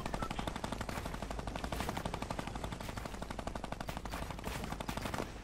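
Rapid automatic gunfire in the battle royale game Fortnite, a dense, unbroken stream of shots that runs without pause, fairly quiet and with no talk over it.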